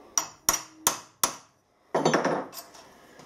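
Four sharp metallic hammer strikes on a centre punch ring out in a steady rhythm, close and loud, marking an aluminium engine mount for drilling, followed by a brief burst of scraping noise.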